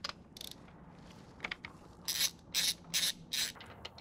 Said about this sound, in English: the next thing we're gonna wanna do is pull the plugs. And the plugs usually are a 5/8 socket.